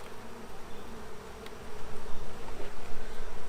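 Honeybees buzz steadily during a summer hive inspection, a close, soft droning hum that swells slightly toward the end, with no talking.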